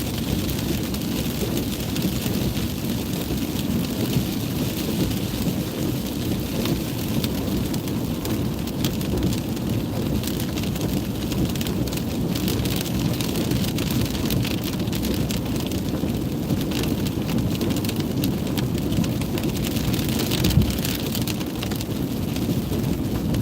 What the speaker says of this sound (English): this rainstorm is nothing. It really usually comes down.